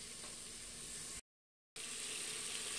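Tomatoes and spices sizzling in oil in a pan while cooking black masoor lentil dal, a steady close frying hiss that briefly cuts out and then resumes.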